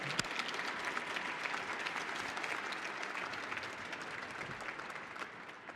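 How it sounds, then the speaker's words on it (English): An audience at a TAPS Honor Guard gala gives a sustained round of applause, thick and continuous clapping from a large room that stays steady and fades slightly toward the end. "Please join me in a round of applause."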